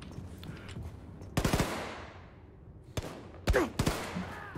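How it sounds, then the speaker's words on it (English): Gunfire in the video game Wolfenstein: sharp bursts of close shots in two clusters, a loud volley with ringing decay followed by several more cracks and a rapid string of shots, no talk. "Somebody's shooting at me."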